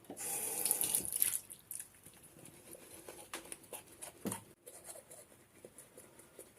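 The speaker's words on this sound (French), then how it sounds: "Donc je me suis donc rincé les dents." Tap water runs into a bathroom sink for rinsing after tooth brushing, a steady gush at first that breaks into splashes, drips and small clatters, heard up close with no talking.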